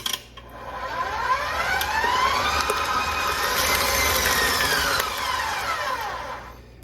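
Electric mixer beating cheesecake batter at medium speed, a continuous whirring motor drone with rising and falling pitch that holds for several seconds before winding down, loud and close, no voices.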